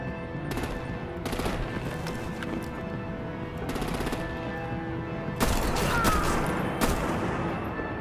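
Rapid bursts of automatic gunfire and volleys of shots in a Batman: The Enemy Within video game battle, loud and close, coming in several sustained clusters with brief gaps between them.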